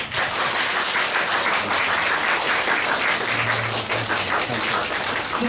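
A packed audience at a live concert gives dense, sustained applause, clapping steadily for the whole stretch at full, even volume.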